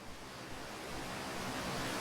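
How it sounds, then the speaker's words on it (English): Steady broadband rush of a waterfall in the space exploration game Outer Wilds, a continuous even roar of falling water heard alone with no talking. "Just the waterfall."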